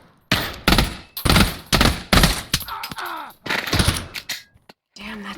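Gunfire in the VR shooter Pavlov, a rapid series of loud close shots in bursts with brief gaps, followed by a few softer mechanical clicks and clatters.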